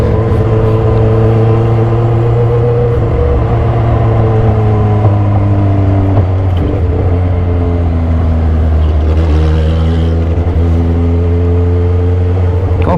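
A 2015 supercharged Kawasaki H2 motorcycle with Austin Racing exhaust accelerates loudly up close, its engine tone climbing and dropping through gear changes in a strong, continuous roar over wind noise.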